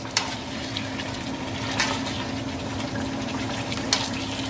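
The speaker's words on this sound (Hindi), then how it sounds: "इसका जो भी मसाला है, ऑयल है, सब हम इसमें वापस डाल देते हैं" Masala and oil for a Mughlai chicken korma are poured back into a cooking pot, making a steady wet hiss with a few soft clinks.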